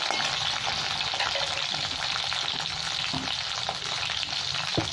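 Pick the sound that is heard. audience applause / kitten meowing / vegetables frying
vegetables frying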